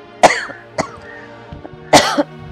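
Harsh coughs burst out three times at uneven intervals, close and loud, with a low steady hum underneath.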